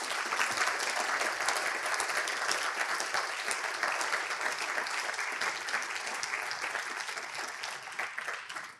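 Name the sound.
audience applause for panelists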